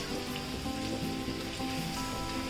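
Spices such as curry leaves, coriander powder, turmeric and masala being fried in a pan, giving a steady, even sizzle that stays constant and fairly quiet, with no voices over it.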